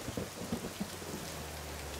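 Steady rain with low rumbling thunder from a rainy scene in The Sopranos, a continuous wash of falling rain at moderate level with a few soft low thumps early on and no talking.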